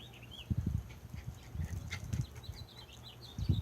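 Small birds chirp and twitter in short high calls over a low, uneven rumbling of nearby movement, the chirps scattered and fairly faint.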